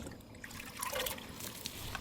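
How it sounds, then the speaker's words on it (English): Water trickles and splashes onto a corroded firearm to loosen the buildup, a soft, steady dribble close by with a brief brighter gush in the middle. "Use some water to break that corrosion up"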